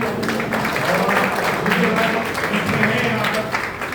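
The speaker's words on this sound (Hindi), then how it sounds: "नाम के लिए जोड़ा ताली होनी चाहिए।" Audience clapping at the closing of a health awareness program, a dense, steady wash of many hands filling the room, loud and close, with voices mixed in underneath.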